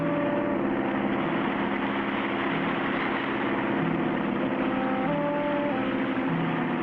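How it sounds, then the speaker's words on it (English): Boat engine running steadily on smooth water just above a waterfall in an adventure cartoon, a continuous mid-low drone with faint tonal hum, alone and fairly quiet throughout. "We'll keep the engine running to force us against the current and hold us from going over the falls."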